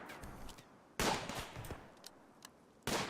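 Bursts of gunfire from the video game RimWorld crackle in sharp volleys, with two loud rapid-fire bursts and scattered single shots in between, all fairly faint and without talk.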